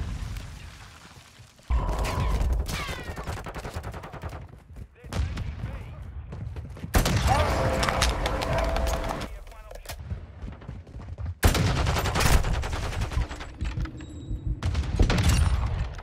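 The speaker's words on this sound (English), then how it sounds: "Damn, the sniper gun." Sniper rifle gunfire from a Call of Duty: Modern Warfare 2 ranked match: several loud, sharp bursts with booming tails, scattered across the clip among other game noise and voices.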